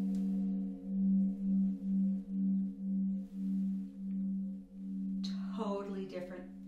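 A gong struck with a mallet and spun hums with a pulsing, wavering tone that throbs in regular beats, then a voice begins speaking as it fades.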